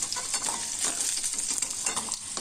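Raw banana pieces frying in oil without turmeric give off a continuous close sizzle, crackling and hissing steadily, with the scrape of stirring mixed in.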